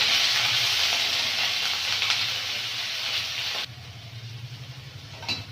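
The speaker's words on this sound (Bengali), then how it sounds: "পেঁয়াজটা ভালো করে ভাজা ভাজা করে নেব" Onion paste fries in oil with a bright, steady sizzle that suddenly drops to a quieter hiss near the end, followed by a faint clink.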